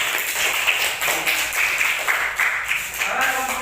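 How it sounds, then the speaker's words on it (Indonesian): A classroom audience claps for a student presenter, dense steady applause of many hands lasting several seconds at close range, bright and sustained without pauses. "Iya, tepuk tangan buat Kang Iset"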